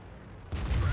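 A single heavy tank cannon blast from a KV-5 in World of Tanks booms in halfway through, a loud broadband thump with a rumbling tail after a quieter lead-in.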